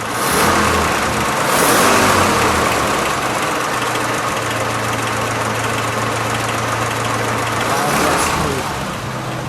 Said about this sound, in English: Claude, can we fire it? Sure. Give a little gas, would you?